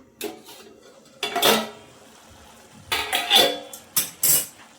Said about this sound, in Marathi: झाकण काढून बघूया आपण आता